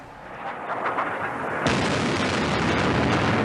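Bombing during the Iraq war: a deep rumbling roar of explosions that swells abruptly into a sustained, dense blast of noise, loud and continuous without speech.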